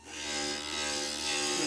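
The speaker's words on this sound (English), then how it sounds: "I'll grind this one down really quickly" A stained glass piece for a dragonfly panel is pressed against a glass grinder, giving a steady, close abrasive whir with a high whine that holds for under two seconds without a break.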